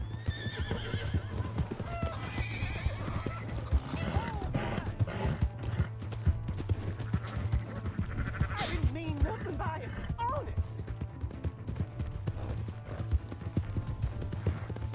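Hooves clip-clop steadily with horse whinnies and snorts in Red Dead Redemption 2, over a constant low hum and game-like creaks, with a voice speaking intermittently.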